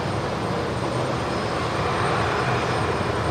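A steady, broad roar from an arriving aircraft approaching runway 19 left at Brisbane Airport in low visibility during Cyclone Alfred, continuous and moderately loud, with wind-like noise and no talk.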